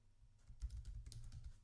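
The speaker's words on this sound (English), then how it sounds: "I start typing first" Typing on a computer keyboard, a quick run of soft close keystrokes with light clicks, quiet and with no talking.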